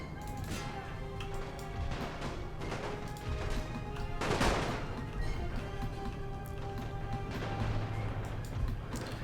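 Rapid gunfire and crashing impacts crackle through a World War I battle in Great War Total War, a dense, continuous barrage with sharper bursts around the middle, under faint background talk.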